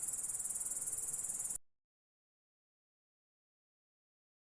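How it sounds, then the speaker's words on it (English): A grasshopper chirps in a rapid, even, high-pitched trill for about a second and a half, then stops abruptly, leaving silence. "grasshopper,"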